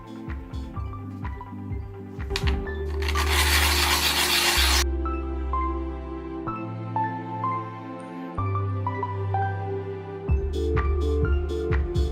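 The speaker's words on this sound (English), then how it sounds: "it looks like it's soft clay, so it should sand down quick and easy" A piece of soft clay found by a river is sanded by hand, giving steady rasping strokes, loud and close, with a burst of harsher grinding partway through.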